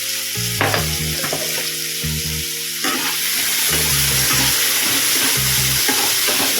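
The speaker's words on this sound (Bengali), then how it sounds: "আলুটা হালকা করে ভেজে নেব।" Potato pieces seasoned with salt and a little turmeric fry in hot oil in a pan, giving a loud, continuous crackling sizzle throughout with a melodic background tune underneath.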